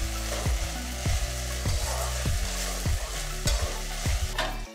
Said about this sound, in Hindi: प्याज को हम तब तक भूनेंगे जब तक इसका कलर ब्राउन ना हो जाए